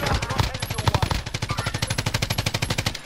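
Rapid automatic gunfire from the shooter game Warzone, a steady stream of loud, close shots in tight rhythm lasting about three seconds with no talk.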